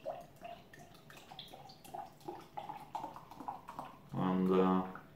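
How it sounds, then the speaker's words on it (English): Hand-filled Dunkel lager from Brauerei Wolf in Rüdenhausen is poured from a bottle into a glass, giving a brief, gurgling splash near the end. A person talks through most of the pour. "you need to be careful while pouring it up"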